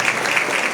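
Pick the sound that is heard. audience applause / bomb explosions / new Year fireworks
audience applause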